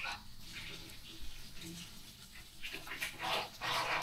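Water running from a tap in a house, a faint steady hiss with soft splashes, with some quiet movement and voices in the background.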